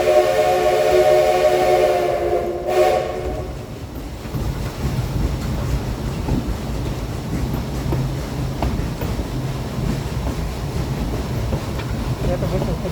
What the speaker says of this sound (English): You have to whistle because we're coming up to a bridge.